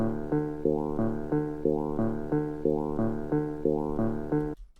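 A short sampled passage from a Russian jazz ensemble, played forward, repeats a simple three-note figure with warm pulsing chords in an even rhythm, moderately quiet and cutting off abruptly at the end, no talk.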